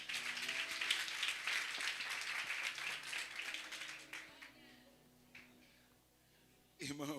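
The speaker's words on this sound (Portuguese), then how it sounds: "Aplaude o nome do Senhor." A church congregation at an Assemblia de Deus service bursts into sustained applause and cheering that fills the room for about four seconds, then fades to scattered claps and murmurs before a voice speaks.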